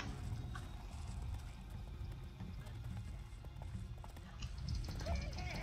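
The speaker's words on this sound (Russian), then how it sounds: "Давайте убивайте лошадки." Horses gallop and whinny in the fantasy video game Overlord, a dense rumble of running hooves under game noise and some voice, swelling louder near the end.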